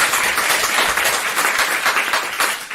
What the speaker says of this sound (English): Should we give Deborah a clap?